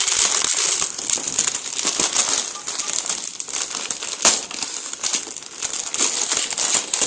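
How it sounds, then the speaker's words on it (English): Wrapping paper being torn and crinkled off a Christmas present, a loud continuous rustling and ripping close by with a sharper tear midway, no talk over it. "Santa has special wrapping paper,"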